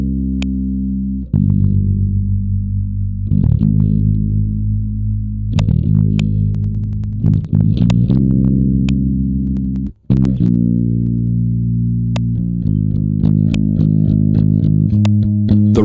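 A track processed through the Waves MetalFlanger plugin, with a sustained tone sweeping and swirling under a flanger effect, punctuated by sharp transient hits and a brief dropout near the middle.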